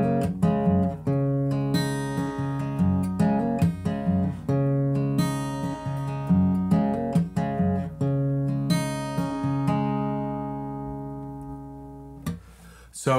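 Guitar picks the intro to a song, with the right-hand fingers plucking the strings: a steady, close, ringing pattern of picked notes that repeats and lets the final notes sustain and fade, with no voices.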